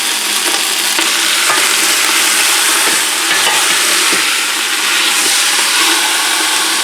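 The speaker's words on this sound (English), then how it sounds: "drop that chicken in there. And allow it to kind of sear for a good 5 minutes" A whole chicken sears in a hot pot, giving a loud, continuous sizzle and hiss with a few small crackles. No one speaks.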